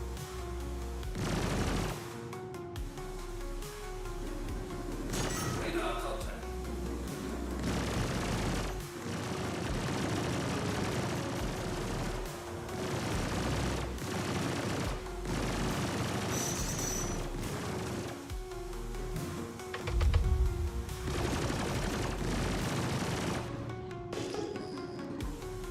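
Sustained gunfire from size 5 weapons against a synth in a game: a dense, steady barrage of shots running throughout, with one louder boom near the end.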